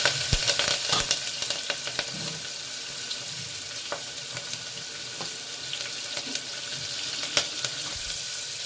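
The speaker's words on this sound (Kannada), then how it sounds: "ಈರುಳ್ಳಿನ ಚೆನ್ನಾಗಿ ಕೆಂಪಗಾಗೋವರೆಗೂ ಫ್ರೈ ಮಾಡ್ಕೋಬೇಕು ಎಣ್ಣೆಲೇನೆ" Onions with curry leaves frying in oil after garlic, for idli sambar: a steady close sizzle with occasional sharp clinks and scrapes, no talking.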